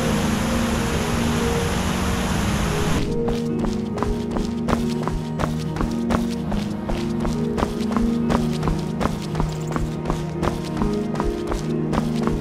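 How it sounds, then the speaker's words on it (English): Footsteps in Skyrim with the Footstep Sounds Overhaul mod: a steady run of crisp, evenly spaced steps over a constant droning game ambience, loud and close, beginning a few seconds in. "Footstep Sounds Overhaul mod upgrades all footstep sounds in Skyrim."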